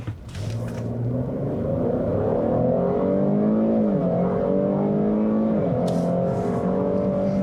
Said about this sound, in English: I do love this naturally aspirated V6 for the noise that it makes.